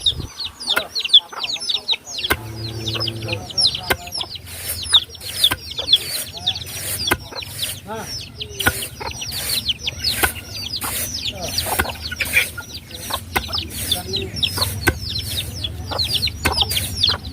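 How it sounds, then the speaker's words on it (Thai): Hens and a rooster cluck in a farmyard, with dense, scattered clucks and chirps going on continuously at close range, broken by occasional thumps and wing flaps. "ไก่กับพ่อไก่พี่น้องเลย"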